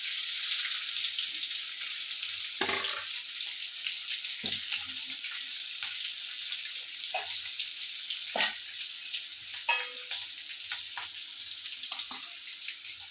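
About fifty green chillies fry in a pan for pickle, giving a continuous, close, hissing sizzle with occasional stirring clicks and scrapes through it, no voices.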